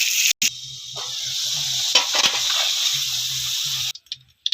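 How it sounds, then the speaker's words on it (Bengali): Potato pieces fry in hot oil sweetened with a little batasa, making a bright hiss and sizzle, close and moderately loud, interrupted by brief cuts and clattery stirring near the end. "এইভাবে আলুটা ভেজে নেব।"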